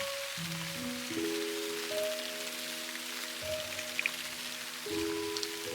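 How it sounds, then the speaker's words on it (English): Rain from the MakeRoom video game makes a steady, even hiss of falling drops. It plays continuously under soft, sustained musical tones. "Oh, this rain is truly so soothing."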